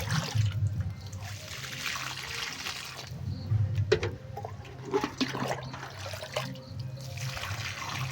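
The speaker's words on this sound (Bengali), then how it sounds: "গাছগুলো একটু জল দিয়ে দিচ্ছি" Water splashes and trickles onto garden plants, brinjal among them, in uneven pouring bursts close at hand, with faint background sounds around.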